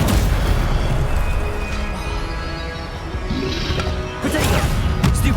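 A Stupefy spell cast in the video game Hogwarts Legacy, loud crashing impacts and bursts over a dense, busy combat background, with a sharp hit near the end.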